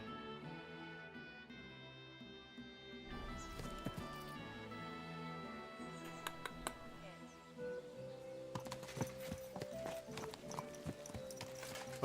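Hooves clip-clop steadily from a horse in a video game, a regular rhythmic trot over a soft musical background, with other game noises scattered through.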